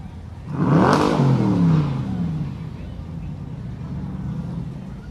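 A Corvette engine at a Veterans Day parade in Birmingham revs up in a loud rising roar, then settles into a steady idle rumble, with voices faintly around it.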